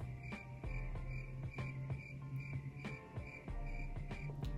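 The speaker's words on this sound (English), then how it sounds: "And you hear crickets." Crickets chirp in a steady, continuous trill, with regular soft clicks throughout and no voices.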